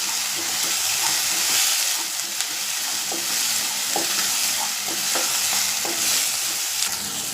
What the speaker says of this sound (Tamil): நல்லா ஒரு பச்சை வாடை போகிற வரைக்கும் நல்லா வதக்கி விடுவோம்.